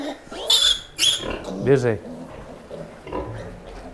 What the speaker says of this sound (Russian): Ну це ще свиноматки спокійні, самі по собі.